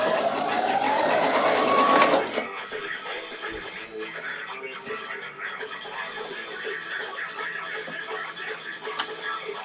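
Sewing machine stitching a velvet collar with stiff horsehair braid for a Victorian evening dress, running loud and close in a steady whir for about two seconds, then stopping and leaving quiet room noise with small handling sounds.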